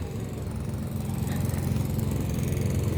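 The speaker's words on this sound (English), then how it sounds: "Got a guy mowing here." A lawn mower engine runs steadily nearby, a continuous rough low drone with a rattling texture that grows slightly louder over a few seconds as someone mows a yard.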